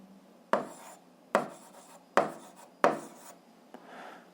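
Chalk or pen strokes on a board while writing out an equation's root in an algebra lesson, four sharp scratchy strokes at a steady pace followed by a softer brief rub, close and clear with no talking.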